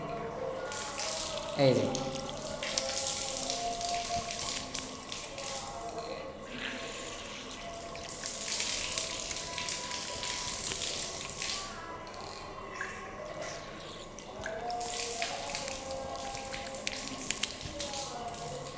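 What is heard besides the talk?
water running while washing hands during wudu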